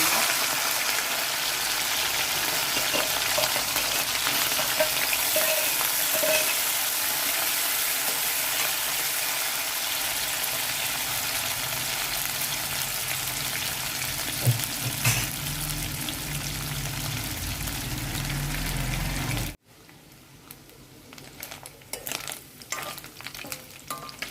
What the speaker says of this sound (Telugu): కడాయి పెట్టి నూనె పోసానండి. నూనె కాగింది. నెత్తళ్ళు వేసి వేయించుకున్నాను.